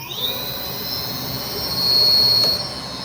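An electric motorcycle at speed, with a high steady whine from its built-in sound speaker riding over faint wind and road rumble, swelling slightly near the end.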